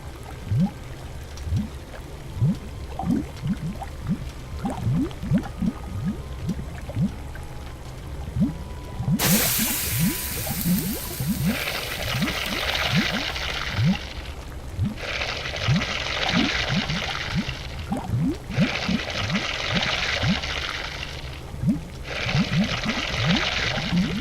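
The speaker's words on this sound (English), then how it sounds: "The water's simmering in the pot." Water simmering and bubbling in a pot in the video game The Book of Unwritten Tales, a steady gurgling with repeated broad bursts of hissing boil, continuous and fairly close.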